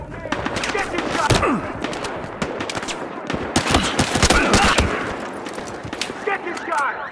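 Battlefield Hardline gunfire: loud, rapid machine-gun bursts and single shots crackle densely through the whole stretch, with shouting voices mixed in.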